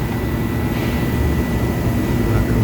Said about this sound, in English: my compressor is running now too